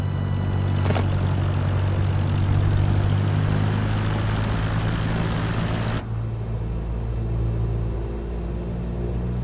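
A Cessna light aircraft flying over Brest, its engine giving a steady loud drone with strong low harmonics that continues throughout, slightly dulled in the last few seconds.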